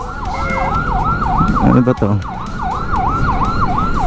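An ambulance siren wails in a steady repeating up-and-down pattern, loud and close, with road noise and a brief voice speaking partway through.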